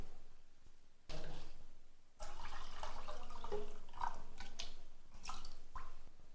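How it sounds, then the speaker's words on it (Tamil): Water poured into a pot of rice and moong dal for Tamil ven pongal, a steady close splashing and trickling pour that runs for several seconds with short breaks, with no talking. "1 லிட்டர் 200 கிராம் தண்ணி இதில் சேர்த்துக்குவோம்."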